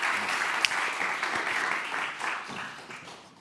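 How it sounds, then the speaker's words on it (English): A conference audience applauds a panel, a steady wash of many clapping hands that fades toward the end, with a faint voice briefly underneath. "Give them an applause."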